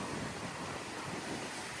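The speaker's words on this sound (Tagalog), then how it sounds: "dito sa gilid dagat, malakas ang hangin" Strong wind blows steadily along the seaside, a constant broad roar of gusts and likely surf with no break, loud and close to the microphone.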